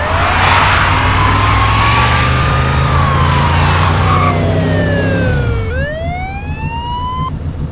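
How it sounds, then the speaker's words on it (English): Police car siren sound effect as a cop car takes off, a loud wailing siren sweeping up and down over a revving engine, then shifting pitch sharply near the end. "So let's go ahead and throw in a siren."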